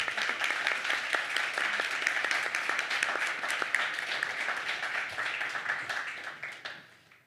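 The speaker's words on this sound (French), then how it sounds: "Est-ce qu'on peut les applaudir?" An audience at a Montreal nightlife presentation applauds the people just introduced, steady clapping with distinct individual claps, holding for several seconds before fading out.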